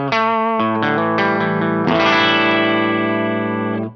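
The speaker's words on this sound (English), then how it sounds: "So if I wind in the compressor," Electric guitar played through a DryBell Unit67 pedal with its 1176-style compressor engaged, into a real amp: a few picked notes, then a loud, sustained chord that rings out evenly for about two seconds with no talking.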